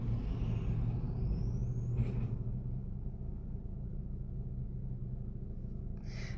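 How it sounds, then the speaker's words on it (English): A steady low rumble of passing road traffic heard from inside a car, with a faint rising whine and a soft clatter near the end. "I'm recording in my car today, so I'm hearing a lot of traffic."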